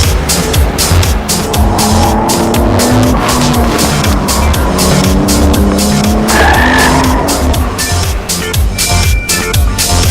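A Nissan Skyline R34 Nismo Z Tune with its RB26 engine cornering hard, loud continuous engine roar with shifting revs and squealing tires, close and sustained.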